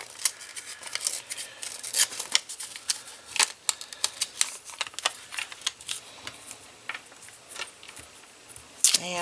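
Paper being trimmed for a handmade mini album card makes a quick run of crisp, close cutting snips in an irregular rhythm, loud at the start and again near the end, with no voices.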